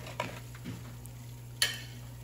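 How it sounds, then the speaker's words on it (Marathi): A spoon stirring vinegar solution in a metal vessel for cleaning silver, producing a couple of sharp clinks over a faint fizzing bubble hiss and a steady low hum, with no talking. "ते चांगलं आपल्याला ढवळून मिक्स करून घ्यायचं"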